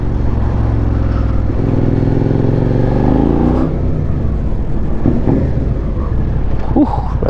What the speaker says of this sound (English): I'm gonna rev it.